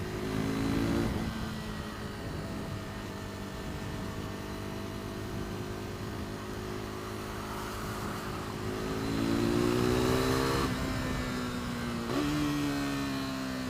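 A KTM RC390 single-cylinder motorcycle engine holds a steady, buzzy high-rev drone while riding, then rises in pitch twice as the throttle opens, loud and close throughout with no talking.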